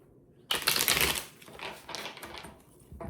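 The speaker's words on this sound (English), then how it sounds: "So get this all shuffled" A deck of tarot cards is shuffled close up, with a fast riffling burst followed by softer, uneven sliding and flicking of the cards against each other, heard alone in a quiet room.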